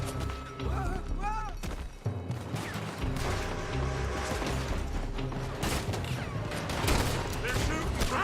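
Gunfire from a building in Red Dead Redemption II, a busy fusillade of shots and clattering impacts layered over music and mixed game sounds, persistent throughout at moderate loudness.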